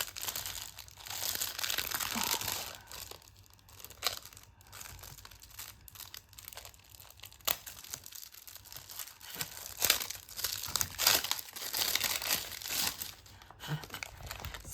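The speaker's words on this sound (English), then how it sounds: "I'm taking out the plastic so you can actually see." Plastic packaging around scrapbooking supplies crinkles and tears as it is opened, with close, irregular rustling and crackling that rises and falls throughout.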